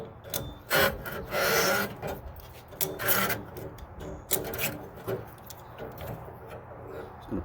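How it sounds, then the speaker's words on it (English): An auger is worked loose and pulled from a Pit Boss 700FB pellet grill using vice grips, giving repeated close scraping, rasping metal-on-metal bursts in uneven pulls. "Remove this auger."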